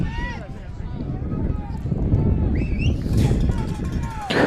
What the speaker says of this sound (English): The wind is blowing. Yeah, it's very windy out here and it's cold.